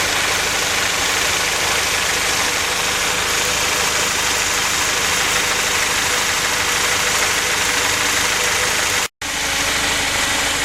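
A Honda Prelude engine idles steadily with a broadband, constant rumble close by, running evenly for most of the stretch before a brief dropout near the end.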